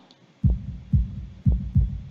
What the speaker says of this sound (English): I stand there, motionless save for my pounding heart.